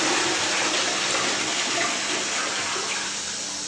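A toilet in a rented station house flat flushes with a steady, loud rush of water that runs continuously throughout, with no voices over it.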